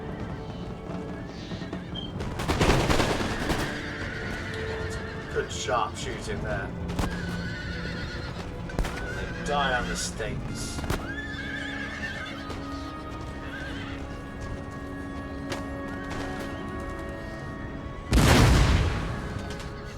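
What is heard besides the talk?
cavalry horses neighing and galloping in video game Empire Total War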